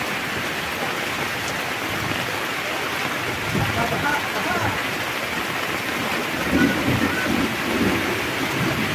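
Heavy rain from Typhoon Goring pours down steadily through the night in Occidental Mindoro, amid flooding, a dense, loud wash of noise with occasional low rumbles underneath.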